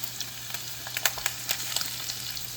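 Turkey frying in butter sizzles steadily and close by, a dense crackling hiss broken by sharp pops and spatters, with no voices over it.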